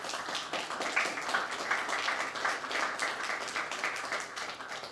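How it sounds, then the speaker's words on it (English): Steady applause from a crowd at a city youth violence prevention microgrant event, many hands clapping at once in a dense, even patter that holds at full strength for the whole stretch. "let's give them another round of applause"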